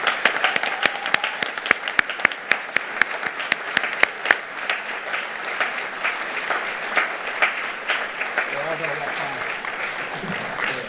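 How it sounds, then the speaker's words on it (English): Audience applause at a school board meeting honoring middle school students, with sustained clapping from a room of people that swells then gradually thins out, some voices mixed in near the end. "Let's give them all a round of applause."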